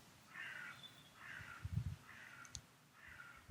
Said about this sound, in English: And so are the birds this morning.